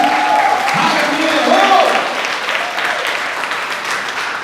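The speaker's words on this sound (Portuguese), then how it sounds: "Você pode aplaudir o Senhor por isso?" A church congregation claps and cheers in sustained applause, fairly loud and close, with voices calling out over it.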